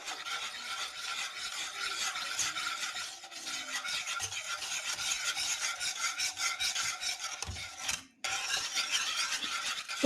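Dry spices, salt, chili powder and turmeric, stirred in a pan without oil, giving a steady close scraping and rasping rub that runs continuously with a brief break near the end.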